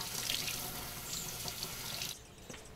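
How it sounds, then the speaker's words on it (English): Loofah sponges washed under a running kitchen tap: a steady, close hiss and splash of flowing water that briefly shifts in tone as the sponges move through the stream, with no talking. "I gave all the sponges a good wash under the tap"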